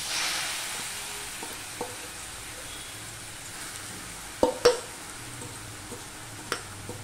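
Grated papaya goes into a hot pan with ground cumin and fries with a soft continuous sizzle, broken by a few sharp scrapes and knocks of stirring midway and near the end.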